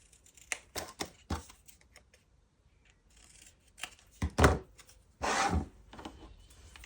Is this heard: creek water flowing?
no